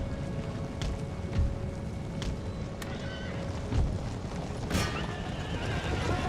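Cavalry horses whinny and neigh several times in the Empire: Total War strategy game, with hoof clatter under a steady windy battlefield ambience.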